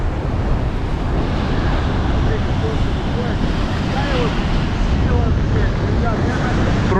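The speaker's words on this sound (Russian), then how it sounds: "Просто шторм, то, что нужно, ребятки." Stormy sea on the Crimean coast, with heavy surf and strong wind roaring steadily and loudly throughout, the wind buffeting the microphone into a dense, unbroken rumble.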